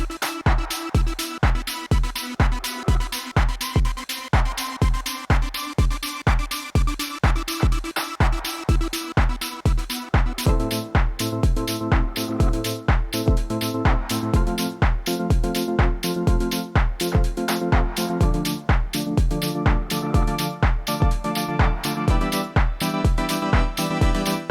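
Gated synth from a Novation Peak, chopped into fast, even rhythmic pulses. The pulses stay loud and steady, and a fuller, brighter layer joins halfway through.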